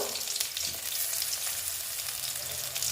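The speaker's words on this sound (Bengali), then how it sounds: "আমি এখন পেঁয়াজ দিয়ে দিচ্ছি" Onions sizzling loudly in hot oil alongside small tengra fish, a steady, dense crackle of frying with occasional stirring, close and continuous with no talk.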